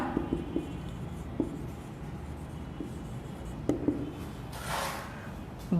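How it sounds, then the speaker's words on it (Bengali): A pen writing out a question on paper in a Bangla class, with soft scratchy strokes and occasional taps at a quiet, close level, steady and unhurried with no talk over it. "দেখো কি লিখছি"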